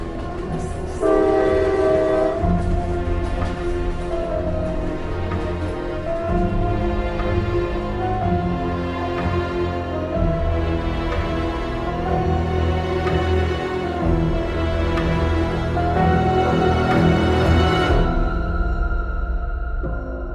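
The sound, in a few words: train whistle and arriving train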